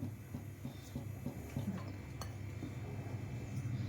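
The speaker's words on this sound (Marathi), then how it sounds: "आपण आता हे मिक्स करून घेऊया।" Soft scraping and light clinks of a utensil mixing batter in a bowl, repeated in an uneven rhythm, close and fairly quiet.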